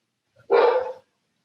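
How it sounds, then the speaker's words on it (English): A single loud dog bark, close and isolated, about half a second long with silence around it. "I don't know if you guys can hear my dog freaking out."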